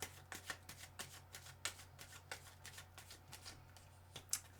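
Tarot cards are shuffled quietly and close by in a quick series of soft riffling bursts, with about a dozen short papery flicks spread across a faint steady background hum and no talking.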